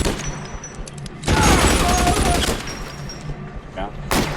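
Gunfire during a shootout in the video game L.A. Noire, with loud bursts of rapid shots, the heaviest volley in the middle and another sharp burst near the end, all under background game sounds.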